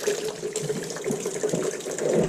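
Coolant squirting and splashing from a Corsa C engine during a 400BHP build, a continuous close hissing gush of liquid with no talk.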